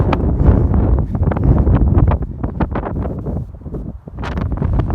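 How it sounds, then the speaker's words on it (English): Strong gusts of wind buffet the microphone on a cold, windy hiking trail in the Pacific Crest Trail desert near Acton and Tehachapi, roaring and rumbling continuously with irregular surges and brief lulls. "It was a cold and windy day on the trail."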